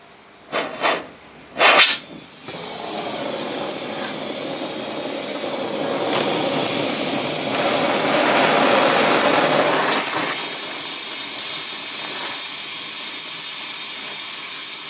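A gas torch roars with a loud, steady hiss as it heats an aluminium part for brazing, preceded by a few short clicks and bursts at ignition; no one speaks.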